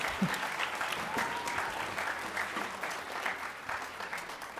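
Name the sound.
audience applause for the steel pan ensembles at a school concert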